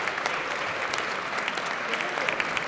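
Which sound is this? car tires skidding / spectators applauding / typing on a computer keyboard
spectators applauding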